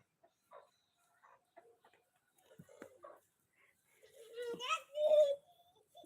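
Tied-up chickens in a lemon orchard cluck in short bursts at close range, growing louder toward the end, with children's and adults' voices chattering nearby.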